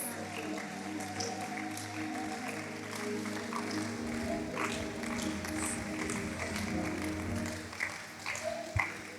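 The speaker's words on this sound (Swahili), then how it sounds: "Unaweza kumshangilia Roho Mtakatifu." A church congregation claps and cheers for the Holy Spirit, steady scattered applause and faint crowd noise beneath sustained worship music, with a voice speaking over it.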